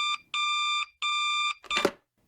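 The hamster phone from a TV superhero parody rings in two long electronic beeping bursts after a short chirp, bright and loud, followed by a brief rattling clatter as it is picked up.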